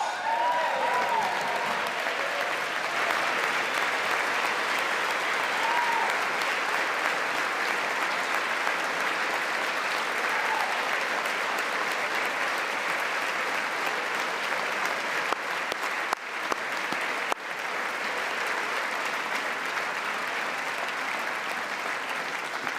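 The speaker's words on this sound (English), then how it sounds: "he gets like an accidental round of applause" A crowd at a Trump speech breaks into steady applause, a broad, even wash of clapping that holds for over twenty seconds at a moderate distance, with no clear voices over it.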